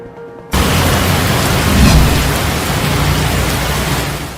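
Heavy rain and wind suddenly roar in over Zamboanga City and keep pouring as a dense, loud, steady hiss with gusty rumbling underneath.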